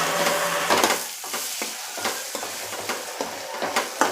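A spoon stirs sabudana khichdi with sugar and lemon in a pan, giving repeated scraping and stirring strokes at a steady rhythm over a soft sizzle, close and clear with no talking.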